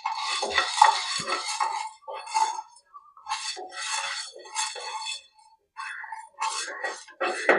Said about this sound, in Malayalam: ഒരു സ്പൂൺ കുരുമുളകും ഒരു സ്പൂൺ പെരിഞ്ചീരകമാണ് ഇത് നമുക്കൊന്ന് നന്നായിട്ട് ചൂടാക്കിയെടുക്കാം